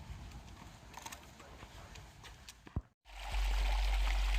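A small stream on the Pacific Crest Trail gives a steady, close broadband rush of trickling water. The sound briefly drops out, then returns louder and more even.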